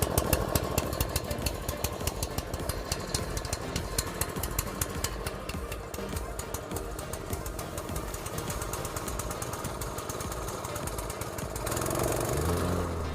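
A petrol plate compactor's engine runs with a rapid, hammering thump, loud and steady throughout, shifting to a smoother tone near the end while working a natural stone garden path.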